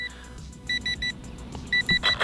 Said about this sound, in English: the beeping that you guys are hearing is a low battery warning